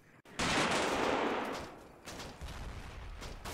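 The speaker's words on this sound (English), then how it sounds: "The FO team call in a strike on the flak 88" Artillery fire strikes a Flak 88 position in a World War II combat game near the Troina entrance, a loud sustained roar of blasts and rumbling debris that fades, then flares again in lower, scattered impacts.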